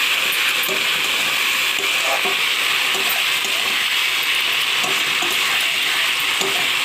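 Spices frying with green chillies and chilli powder in hot oil for a vegetarian potato and raw banana curry with lentil dumplings, a steady close sizzle with faint stirring scrapes throughout and no talking.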